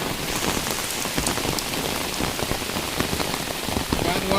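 Heavy rain pouring down outdoors, a dense continuous hiss of drops striking surfaces close by, steady and loud from start to finish, with faint voices buried beneath it.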